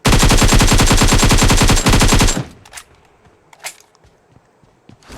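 Automatic gunfire in the mobile battle royale game PUBG Mobile, a rapid loud burst of evenly spaced shots for about two seconds, followed by a few faint scattered cracks and clatters.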